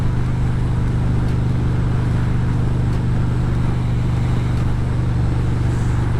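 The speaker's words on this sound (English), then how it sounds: "Ford truck with a camper." A Ford pickup truck carrying a camper rolls past along a lakeside road, a steady broad road rumble with tire and engine noise heard from a riding motorcycle, continuous and fairly loud with no voices.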